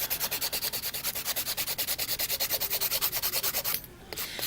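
A nail file rasps back and forth in a fast, steady rhythm of many short strokes, close up, then stops abruptly.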